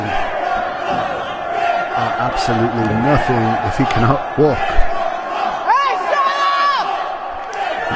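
A professional wrestling crowd cheers and shouts for Scott Steiner, a steady roar beneath loud play-by-play commentary. A voice yells out in strained, rising cries over the crowd.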